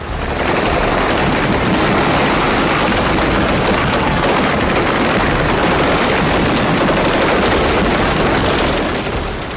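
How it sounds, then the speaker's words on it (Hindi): Machine guns fire in a dense, continuous, loud roar on a Crimean shore where Ukrainian commandos come ashore against Russian troops, mixed with bursts and booms for nearly ten seconds without a break. "लेकिन तभी मशीन गन गरजने लगी।"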